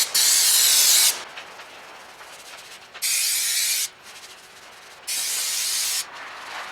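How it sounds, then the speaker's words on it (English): Brake cleaner sprayed onto an oily sump of an Audi A3, three loud close hissing bursts of about a second each, separated by short quiet gaps. "I'm just using brake cleaner, and brake cleaner, as you can see, will absolutely rip anything off."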